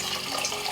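Water pours steadily into a 3-litre soup pot over diced potatoes, a brief soft splashing rush with no talk.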